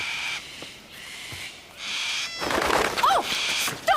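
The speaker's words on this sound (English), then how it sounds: "Nice birds." Captive birds being fed in an enclosure, giving bursts of screechy calls and rising squawks, with bouts of rustling and flapping that grow busier toward the end.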